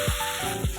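Ginger garlic paste with turmeric frying lightly in a pan for chicken chops, a close, steady sizzle broken by two soft scrapes of a spoon.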